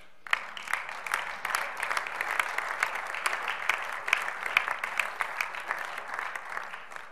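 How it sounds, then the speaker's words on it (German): Members of a German state parliament applaud during a plenary session, a steady patter of many hands clapping at moderate distance throughout. "Applaus"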